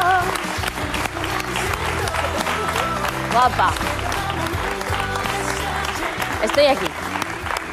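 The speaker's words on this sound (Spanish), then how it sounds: "Recibimos con un fuerte aplauso a Paqui y a Meadow." A studio audience on a Spanish television show applauds to welcome two guests, one of them a guide dog, with clapping running beneath music and brief spoken greetings.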